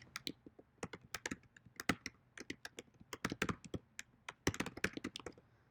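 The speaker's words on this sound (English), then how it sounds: "I'm just typing this out so you guys can see this." Quick, irregular clacks of typing on a computer keyboard, with sharp close keystrokes in uneven bursts and a few heavier thunks, with no voices over them.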